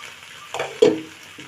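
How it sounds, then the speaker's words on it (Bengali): Fish-head and potato curry stirred in a pan: two short scraping, wet stirring strokes close by, the second sharper, over a faint background hiss. "এখন আমি মাছের মাথা দিয়ে আলুর ঘাটিটা একটু নেড়ে চেড়ে"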